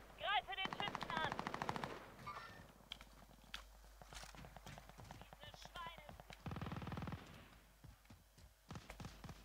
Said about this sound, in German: Wir werden von oben auch noch beschossen.